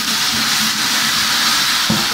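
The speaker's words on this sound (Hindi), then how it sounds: "अब इसमें जो हमने पेस्ट तैयार की है, अदरक, लहसुन, हरी मिर्ची और टमाटर लगा लेंगे।" A paste of ginger, garlic, green chili and tomato sizzles loudly in a hot pan while mixed vegetables cook, giving a steady, dense frying hiss for the whole short stretch with no talk.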